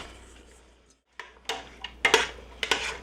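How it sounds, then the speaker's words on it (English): Chopped onion drops into a pan of browning meat for black bean chili, giving a few sharp clatters and scrapes of a utensil against the pan after a brief hush, close and fairly loud with no talking. "That's when the onion goes in."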